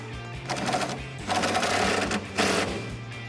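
A power tool drives the bolts on a grille guard for a 2019-2021 Chevrolet Silverado 1500 HD. It runs in three close, loud, whirring bursts with short pauses between them, and no one talks.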